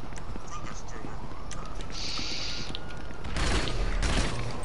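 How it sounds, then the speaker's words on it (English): A Tommy gun fires in the video game GTA 5, rapid bursts of gunfire in a dense, noisy game mix, strongest near the end, with players talking over the action. "I'm gonna use the Tommy gun"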